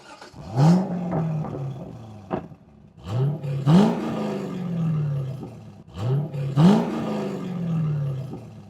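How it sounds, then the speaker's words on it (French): A Corvette C5 Z06 V8, heard from behind the car, blips its throttle three times, each loud rev rising sharply and then falling away in a deep, throaty growl. "on va se mettre à l'arrière du véhicule pour remettre 2-3 petits coups de gaz"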